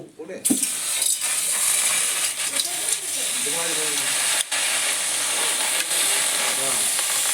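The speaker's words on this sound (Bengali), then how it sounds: "কড়াই বসে দিয়েছি শাকটা আমি এবার একটু ভাপিয়ে নেব" Chickpea greens steaming in a wok over a stove, giving a continuous broad hiss with a few faint clinks and muffled voice-like tones beneath it.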